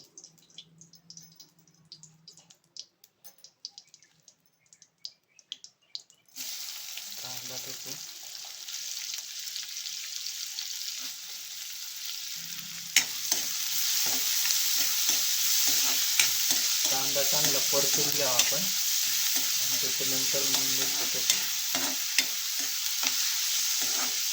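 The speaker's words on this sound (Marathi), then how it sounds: "आता तेल तापला का आपण देणार आहे त्याला फोडणी" Hot oil crackles and sizzles loudly and steadily as a tempering is added to a vegetable dish made from wild chai flower buds, after a quieter stretch of faint stirring and clinks.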